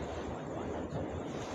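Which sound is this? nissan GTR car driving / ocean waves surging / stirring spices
ocean waves surging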